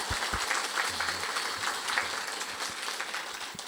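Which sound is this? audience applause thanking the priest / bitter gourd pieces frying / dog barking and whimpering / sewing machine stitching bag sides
audience applause thanking the priest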